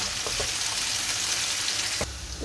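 Chopped onions sizzling in hot oil, a steady broadband frying hiss throughout with a sharp stir or clatter near the end, no voices.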